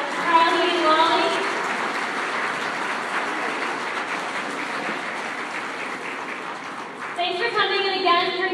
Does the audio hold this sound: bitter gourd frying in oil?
no